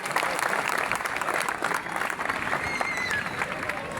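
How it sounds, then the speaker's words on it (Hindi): Steady audience clapping fills a hall at a company's fourth anniversary and product launch event, dense and continuous crowd applause at an even level throughout. "तो तालियां बजा दो ताकि मेरा गला भी थोड़ा आराम मिल जाए"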